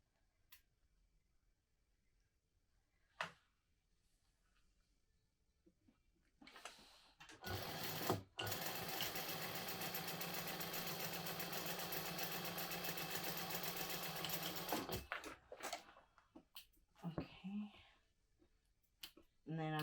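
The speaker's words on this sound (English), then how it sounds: "I'm gonna line up one side, and I'm gonna sew it at 1/8 of an inch." Near silence with a few faint clicks gives way to a sewing machine stitching a narrow seam, running in a steady whirring burst for about seven seconds before stopping, followed by light handling sounds.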